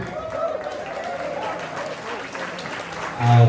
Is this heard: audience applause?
yes